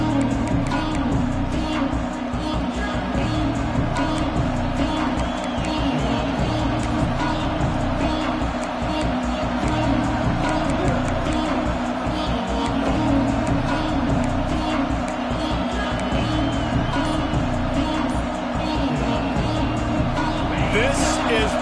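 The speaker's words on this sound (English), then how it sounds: "This crowd ready to make its presence known." Stadium crowd noise in a college football video game with Oregon playing LSU, a loud, steady roar of many voices that carries on without break beneath a commentator's play-by-play.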